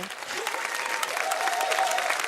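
Audience applause for singers at a concert or show, a steady dense clapping that fills the whole stretch, fairly loud and close, with faint crowd voices underneath.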